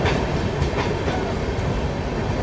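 The Patna Udaipur Humsafar Express rolls through the city of Kanpur, its wheels rumbling and clattering on the rails in a loud, continuous wash of noise heard from on board.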